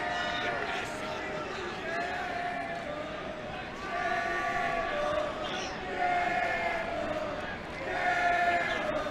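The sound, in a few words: crowd of spectators at a lacrosse game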